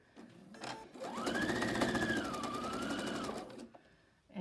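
A home sewing machine with automatic thread cutting stitches quilt sashing for an octagon quilt, giving a steady rapid whirring hum that runs for about three seconds at close range, starting and stopping cleanly with no talk.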